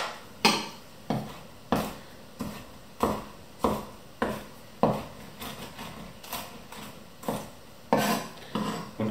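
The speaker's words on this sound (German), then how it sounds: "Gehe hier auch kurz nochmal mit dem Wiegemesser drüber." A mezzaluna rocks through garlic on a wooden board, a steady series of about fifteen crisp chopping knocks at a regular pace, close and fairly quiet, with no talking.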